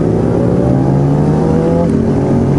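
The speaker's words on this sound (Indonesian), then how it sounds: "Itu Harley yang kenceng sih, kenceng banget malahan buat ukuran Harley." Harley-Davidson V-Rod with a Porsche-developed engine, custom-built with widened rims, flame airbrush paint and a drilled-out exhaust, revving loud and close in a steady throaty roar with no talk.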